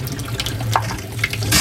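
Pink antifreeze runs from a camper faucet as a steady, close gush of liquid into a sink, continuous for the whole short moment with a slight surge at the end.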